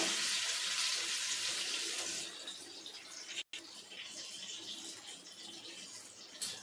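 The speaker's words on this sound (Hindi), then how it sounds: "ये हमारा कढ़ाई गर्म हो गया, अब मैं इसको फ्राई करूँगी अच्छे से।" Besan gatte fry in a hot kadhai with a loud, bright sizzling hiss that eases to a softer, steady crackle partway through, nearby and without voices.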